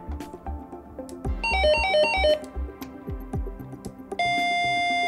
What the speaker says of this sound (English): The current ringtone melody will play.